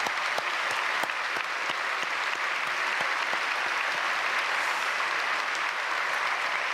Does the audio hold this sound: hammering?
no